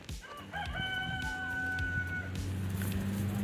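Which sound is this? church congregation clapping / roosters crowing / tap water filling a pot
roosters crowing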